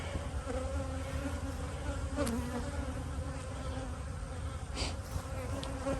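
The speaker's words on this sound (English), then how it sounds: "These bees somehow got up in here." Honey bees buzzing at a hive box in an apiary, a dense, steady swarm drone filling the whole stretch, close and continuous, with a few louder passes of individual bees.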